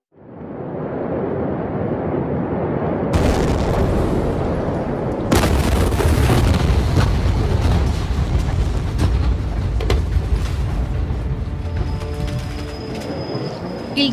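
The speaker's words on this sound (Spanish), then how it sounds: "una serie de explosiones en el puerto de Beirut" A deep, sustained rumble swells as a loud blast erupts at the port of Beirut, followed by another heavier boom and a long roaring, crackling aftermath.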